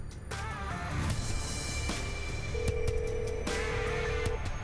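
Telephone ringing while a call is placed, with a thin electronic tone and ring bursts standing out over a busy, noisy background of clicks and hum.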